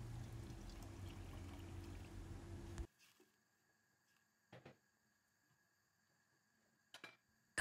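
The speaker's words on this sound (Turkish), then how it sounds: "Tencerenin yarısına gelecek şekilde su ilavesi yapalım." Water poured into a cooking pot on the stove, a steady close splashing pour lasting a few seconds before stopping abruptly, followed by near silence with a couple of faint clinks and knocks.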